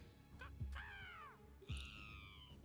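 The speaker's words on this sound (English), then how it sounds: "It's making bird noises out here." Two loud, harsh crow caws a second apart, close by, each one a drawn-out rasping call over faint outdoor background noise.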